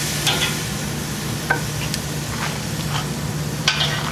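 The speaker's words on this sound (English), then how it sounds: "Get that nice sizzle." Grass-fed Delmonico rib roast sizzles steadily in a hot pan with a constant crackling hiss, punctuated by a few light clinks and scrapes, close and without voices.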